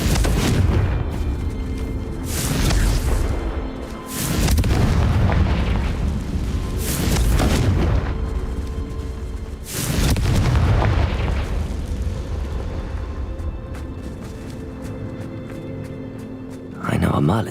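Repeated Confringo blasting-spell explosions in Hogwarts Legacy, inside a mine, several loud booming bursts each decaying into a rumble, with spoken voices in between.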